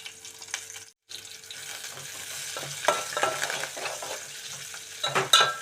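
Torn curry leaves hit a hot pan and fry with a close crackling sizzle while a spoon stirs, cooking a flat bean and tomato curry, with brief scraping bursts and no talk.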